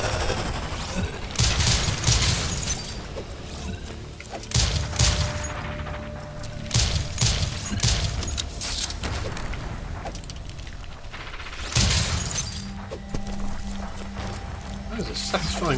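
Rapid bursts of gunfire from the side-scrolling shooter game Rise & Shine, loud repeated shots in clustered volleys with short pauses, mixed with game sound effects.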